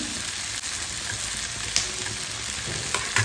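Chili powder sizzles steadily in hot oil for a tomato sambar, a continuous close frying crackle with a few small pops and stirring clicks, no talking.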